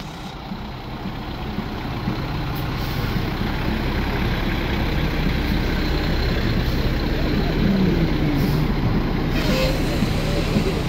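A 1927 Seagrave fire engine, Engine 108, rolls by in a Katonah fire department 150th anniversary parade, giving a steady low engine rumble under continuous outdoor crowd noise that swells slightly and then holds.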